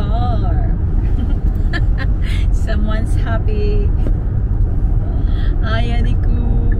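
A new car is driving on a wet, rainy road, heard from inside the cabin. Steady low road rumble runs throughout, with voices talking over it.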